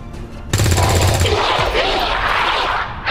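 Weapon fire in the video game XCOM 2: after a brief quiet start, a sudden loud rapid burst of shots rings out, then a noisy, rumbling tail fades over the next few seconds.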